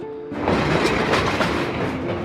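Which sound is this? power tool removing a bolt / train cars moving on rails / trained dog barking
train cars moving on rails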